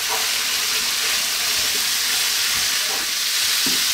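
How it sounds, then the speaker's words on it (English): Steady sizzling of curry powder frying in a pan for chicken potato curry, with a spoon scraping and stirring through it in a few soft strokes, continuous and close with no talking. "So keep stirring now, we're going to go for about 4 minutes"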